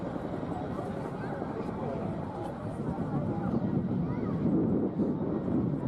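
An RAF Chinook twin-rotor helicopter flies a display at the Torbay Airshow, its heavy rumbling rotor noise continuous and fairly loud, swelling slightly toward the end, with an announcer's voice over the crowd area.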